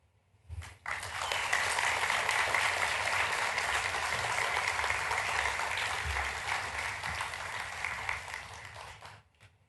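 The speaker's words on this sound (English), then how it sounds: "I want to give a round of applause for Scott as he comes up on stage." Applause from an audience at a high school enlistee recognition ceremony rises sharply after a brief pause and holds as sustained, fairly distant clapping for several seconds before cutting off.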